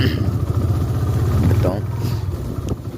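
A motorcycle engine rumbles low and steady while riding off-road over rough ground, mixed with wind and a voice talking over it.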